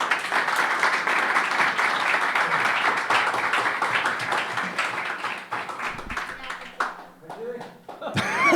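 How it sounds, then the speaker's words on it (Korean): Congregation at a church founding worship service applauding warmly, dense steady clapping for several seconds that thins toward the end, with some chatter and laughter mixed in. "박수로 뜨겁게"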